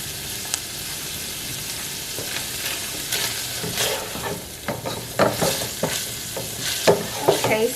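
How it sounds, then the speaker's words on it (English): Ground beef, 90-10 lean, browning in a pot: a steady frying sizzle, broken by repeated scraping and stirring strokes that come more often and grow louder toward the end. "we're gonna just let our ground beef brown"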